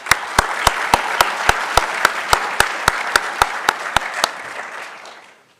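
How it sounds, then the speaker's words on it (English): An audience applauds a school Scholars Bowl team, with one close, loud clapper striking a steady, evenly spaced beat over the broader crowd applause, which fades out near the end. "Let's give a nice round of applause to Scholars Bowl."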